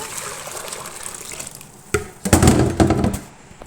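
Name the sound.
water poured into a cooking pot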